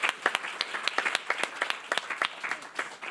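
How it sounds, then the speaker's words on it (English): A small audience claps for Jim at a workshop's closing remarks, the sparse individual hand claps distinct and moderately loud, settling into a steady ragged rhythm without any talk. "Round of applause for Jim."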